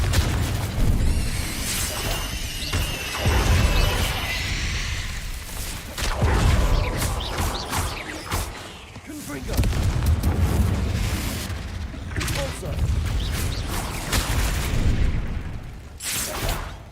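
Repeated Confringo fire-spell blasts in Hogwarts Legacy, loud booming explosions in bursts throughout with whooshing debris, dense continuous game combat sound and no clear talk.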